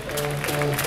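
Indoor volleyball crowd applauding as player Tanja Goricanec is introduced before a match, a short dense burst of clapping with a voice running over it.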